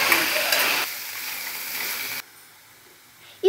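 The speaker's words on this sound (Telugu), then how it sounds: "ఆవాలు, జీలకర్ర, టేబుల్ స్పూన్ శనగపప్పు, చిన్న కట్ చేసుకున్న ఆనియన్స్, 1/2 టేబుల్ స్పూన్ పసుపు, ఇలా కలుపుకోవాలి." Mustard seeds, cumin, chana dal, chopped onions and turmeric sizzle and are stirred in a hot pan, a loud frying hiss that steps down in stages and then goes almost quiet before a short scrape.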